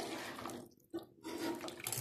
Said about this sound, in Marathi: त्यामुळे पाणी भरपूर घालूया